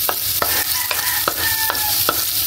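Garlic and onion sizzle in a pan as a utensil stirs them, scraping the metal in regular strokes every half second or so over a steady close frying hiss.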